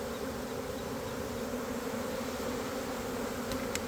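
A dense, steady buzz of a honeybee swarm hums continuously, loud and close, with no talking.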